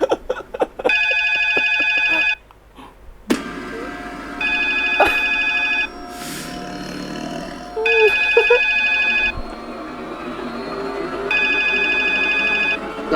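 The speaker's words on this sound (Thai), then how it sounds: "อย่าให้ผมได้ยินเสียงโทรศัพท์อีก" An office phone in a Thai drama rings in four separate bursts of bright electronic trills, with quiet background sounds between the rings.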